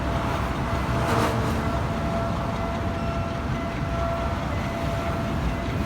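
An electric rail train passes through Bangkok, a steady, loud rumble with continuous wheel and track noise and a faint tonal whine running throughout, with no voices.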